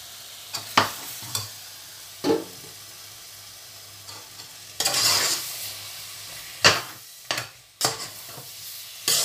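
Food being stirred in a frying pan, with scattered scrapes and knocks of a utensil against the pan over a soft sizzle, separated by quiet pauses.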